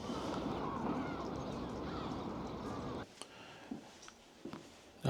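Seagulls give a few faint, scattered calls in a quiet, near-empty city district built to resemble an international financial center, following a stretch of steady broadband background noise.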